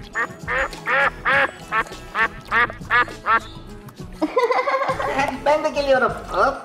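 A string of loud, close duck quacks in a rhythmic burst, followed by more rapid, overlapping quacking.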